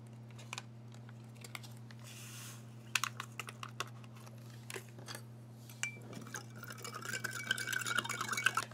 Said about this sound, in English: We'll give this one a stir.